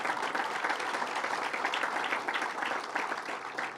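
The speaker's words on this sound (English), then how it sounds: "So let's give him a round of applause for his good work." An indoor audience at a public meeting on zombie properties applauds, with dense steady clapping that fades slightly toward the end.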